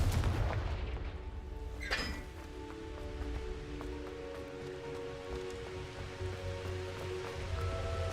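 Spell blasts from the Confringo fire spell in the Hogwarts Legacy video game, a sharp burst near two seconds over a low rumbling game ambience with faint clinks and crackles.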